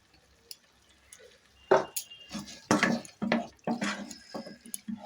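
A spoon stirs and fries spice masala with Kashmiri chilli powder in a pan for duck egg curry. Irregular scraping and clinking strokes rise over a quiet, faintly sizzling background.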